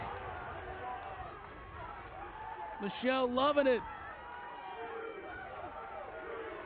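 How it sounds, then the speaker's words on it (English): A crowd roars in a steady wash of cheering at an NCAA lacrosse quarterfinal between Rutgers and UNC, with a sports commentator talking loudly over the noise. "This crowd is unbelievable."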